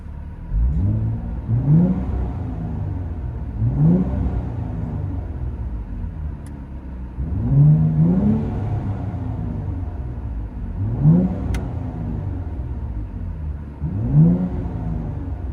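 A 2023 Nissan Z's exhaust revs in five rising, muffled bursts a few seconds apart, heard from inside the cabin over a constant low rumble.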